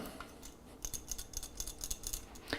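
Shaker jet of an MSR XGK EX mountaineering stove being shaken, a quick run of light metallic clicks and rattles, close and crisp, ending in a sharper tick.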